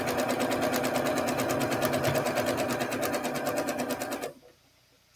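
A sewing machine stitching pieces of a quilt block together, a loud, close, steady rapid whir of the needle that runs continuously, then stops abruptly near the end.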